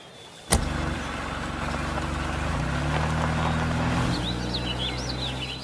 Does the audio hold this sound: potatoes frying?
no